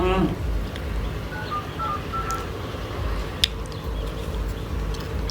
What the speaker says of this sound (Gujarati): ભેમાને ફોન કરો